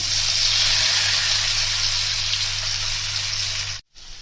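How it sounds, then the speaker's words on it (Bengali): Jackfruit pieces frying in hot oil in a wok, a close, steady, fairly loud sizzling hiss that holds evenly, breaks off for a moment near the end and then resumes. "এবার এই তেলের মধ্যে আমি এঁচোড়টা ভেজে নিচ্ছি।"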